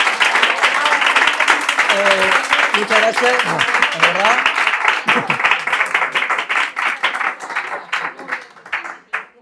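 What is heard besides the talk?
audience applause for the speaker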